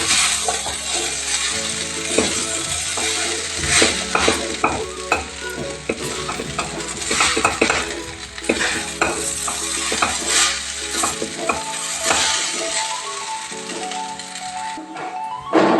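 Noodles fry in a pan under a steady loud sizzle, with rapid repeated clanks and scrapes of a spatula stirring and tossing them close up, and no one speaking.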